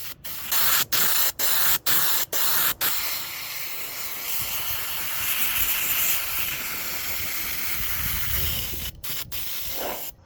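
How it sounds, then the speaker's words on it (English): An airbrush fed by an air compressor sprays pearl black paint onto an R/C car body, opening with several short, sharp spray bursts and then settling into a long, steady hiss close by, with no voices. "pearl black now loaded up in the airbrush, and that is ready to go"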